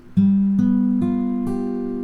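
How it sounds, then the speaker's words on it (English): Four guitar chords, played on only the second to fifth strings, are strummed one after another at an even pace, each ringing out clearly over the last, played alone. "And I'm playing just the 2nd to the 5th strings."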